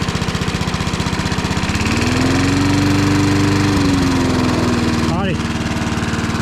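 A 1974 Dynamow lawn mower engine idles close by with a rapid, chugging putter. Its pitch swells up and then sags back down as the idle drops, and a brief higher sputter comes near the end.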